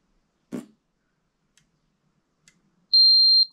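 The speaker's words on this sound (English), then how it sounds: "So that's beeping at you, James, because you've got no earth connecti" An electrical test meter used on a condition report gives a steady, piercing electronic beep that sounds when there is no earth connection, preceded by a couple of faint clicks and a brief thump.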